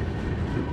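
A passenger train runs along the rails with a steady, dense rumble and faint clatter, heard alone for under a second.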